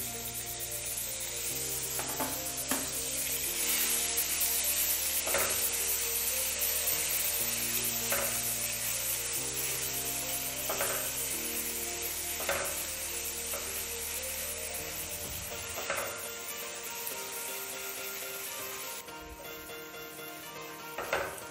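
Grated onion and curry leaves sizzle and crackle steadily in a hot pan for a Rajasthani besan pitod curry, close and continuous, with occasional utensil knocks and soft music underneath.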